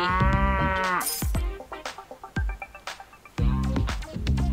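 Cattle mooing in a pet-collecting video game, several loud, drawn-out moos with strong harmonics at the start and again at the end, with sharp clicks and short game effects between them.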